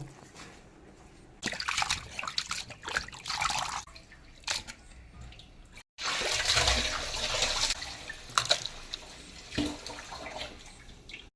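Onions are washed in water, splashing and trickling in bursts with a pause between, fairly close, no talking.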